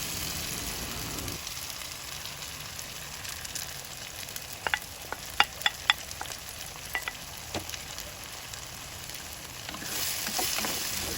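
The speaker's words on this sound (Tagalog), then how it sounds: "Ayan, ibubuhusan natin yung ating mga itlog. Ayan, malambot na yung ating kamatis." Beaten eggs poured over softened tomatoes sauté in a pan with a soft, steady sizzle, broken by a few sharp taps and clicks of a utensil stirring against the pan, with no talking.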